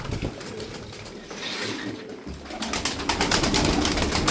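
Oyun Kuşu pigeons cooing close by in a loft, a run of soft, low, repeated coos over rustling and fluttering.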